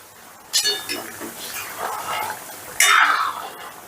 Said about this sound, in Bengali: 5 মিনিট বাদে ঢাকাটা তুলে নিলাম।